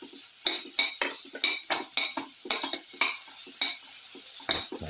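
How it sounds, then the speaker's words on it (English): Onion pieces and winter melon being sautéed in a pan, with a faint sizzle underneath repeated scraping and clinking strokes of a utensil against the pan in an irregular stirring rhythm, close by and without talking. "Saute."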